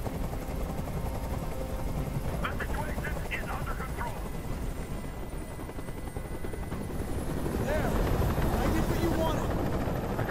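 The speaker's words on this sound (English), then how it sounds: "I can't stand that noise anymore. Tell that helicopter to get out of here." A helicopter hovers nearby in the game Detroit: Become Human, its constant rotor thrum and engine roar running throughout, swelling louder near the end, while voices speak over it.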